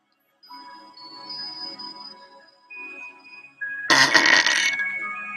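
A single loud, raspy burp erupts close by inside an RV, lasting about a second and a half after a stretch of soft tonal hums and quiet background sounds.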